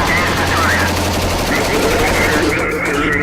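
Sustained rapid gunfire rattles continuously in dense automatic bursts, loud and close, with no pause across the stretch.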